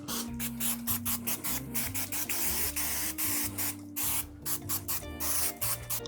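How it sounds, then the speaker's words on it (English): Rapid, hissing bursts of Pam cooking spray sprayed onto a pan, repeated in short pulses close by, with no talking. "I'm just gonna spray our pan with a little bit of Pam."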